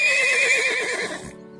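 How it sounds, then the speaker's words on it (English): A horse gives a single loud, close whinny with a wavering, quavering pitch that lasts about a second before cutting off into quiet. "horses"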